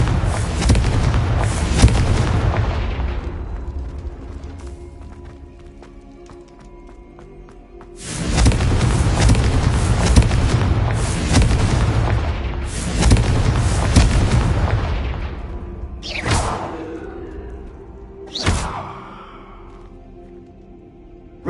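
Confringo blasting curse explosions go off in Hogwarts Legacy: several heavy booming blasts with long rumbling decays, followed by two sharper, shorter bangs.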